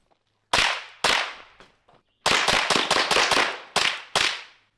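Sharp, loud shots crack out close by: two single reports, then a rapid burst of about five, followed by two more spaced shots.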